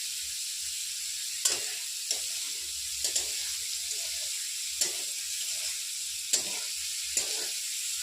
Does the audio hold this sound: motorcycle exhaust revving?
no